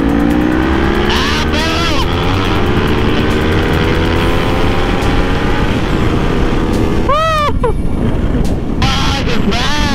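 Motorcycle engine on a roll-on run toward Mt Baldy, revving hard with rising and falling pitch sweeps as gears change and downshift, loud and close over steady wind roar, with another bike nearby and voices over the noise.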